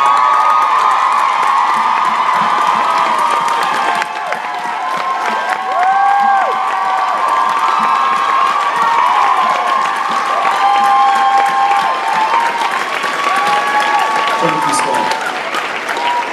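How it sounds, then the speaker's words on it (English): A large convention crowd gives a long, loud round of applause with cheering, whoops and shouts, steady and dense throughout, with a brief dip partway through. "can y'all guys stand up and give her the proper round of applause?"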